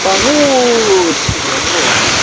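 Strong sea waves washing onto the shore of Talim Island in Navotas, a loud, steady rush of surf noise throughout, with a brief voice speaking at the start.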